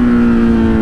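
A Kawasaki Z superbike engine revs hard as the ride gets underway, a loud, close, sustained mechanical roar with a steady tone throughout the short burst, no talking.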